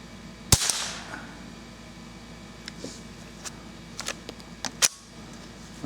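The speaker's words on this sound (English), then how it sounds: "So I'm going to shoot at the target in the bottom row on the left." A gun fires CCI .22 Quiet ammunition at a target: one sharp, fairly soft crack near the start, followed by scattered small clicks and handling noises; no speech.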